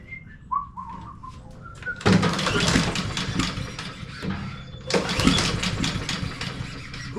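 A Honda HRR216 lawn mower with an auto choke, left sitting all winter, cranks twice in long loud pull-start bursts that fail to catch, with faint bird chirps before the first pull.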